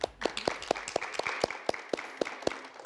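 Applause from an audience at a televised youth debate on the exam, heard as faint, evenly paced claps about four per second, with no talking over them.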